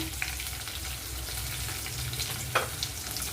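Chopped onions fry in a pan with an even, close sizzle, and a few utensil taps and stirring scrapes come through, one more distinct knock partway through.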